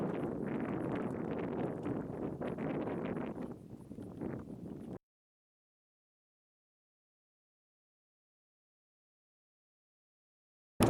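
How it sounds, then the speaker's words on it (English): Wind gusts across a hot desert campsite in July, a steady broadband rush buffeting the microphone for about five seconds before cutting to silence. "It's windy out"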